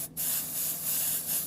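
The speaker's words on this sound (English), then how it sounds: "listen to that grainy spray" Paint from a spray gun hisses out in a continuous grainy spray, close and steady with slight surges, preceded by a brief gap.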